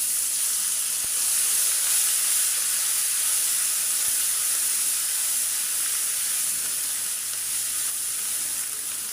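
Ginger garlic paste sizzles in a hot pan while a spiced bitter gourd fry is being made, giving a steady, close hiss that continues evenly throughout without any talking.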